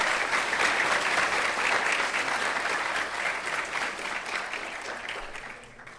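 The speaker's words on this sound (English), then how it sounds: "Let us give a huge round of applause to everyone who has been part of this wonderful legacy." A large audience applauds at a Model United Nations opening ceremony, dense sustained clapping that holds strong and then gradually fades toward the end.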